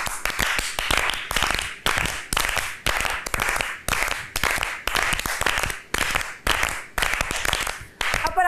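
A group on a reality-show set claps in short, rhythmic bursts, about a dozen evenly spaced rounds of sharp hand claps with brief gaps between them, loud and close.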